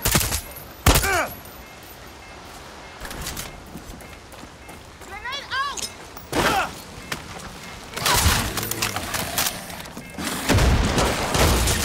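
A grenade explodes in Far Cry 6 amid gunfire, with several sharp, loud booming bursts and crackling debris scattered across the scene, and a voice calling out between them.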